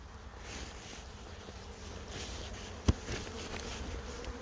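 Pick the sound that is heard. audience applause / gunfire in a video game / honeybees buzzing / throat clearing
honeybees buzzing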